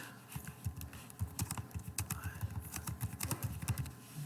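Computer keyboard typing out a line of C printf code, a steady run of close, quick key clicks with short uneven pauses, no talking.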